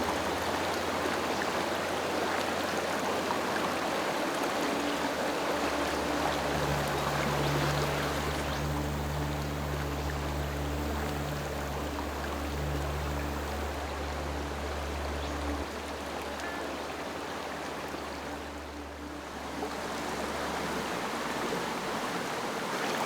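Steady broadband rushing of a creek flowing through jungle, constant and fairly loud throughout with no voices, a low hum and faint tonal drone underneath.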